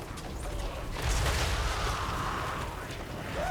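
Dwarf grudge thrower catapults firing in Total War: Warhammer 3, a dense continuous battlefield roar with a heavier launch thump around the middle, rumbling steadily throughout without clear separate shots.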